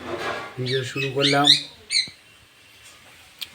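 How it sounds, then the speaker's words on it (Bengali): A parakeet squawks from a neighbour's house, a couple of sharp harsh calls mixed with a person talking nearby. "আমাদের পাশের বাড়ি টিয়া পাখি কিচির মিচির শুনে"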